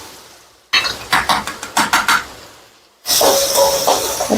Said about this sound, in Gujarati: અને પછી કાંદા વઘારમાં નાખીશું.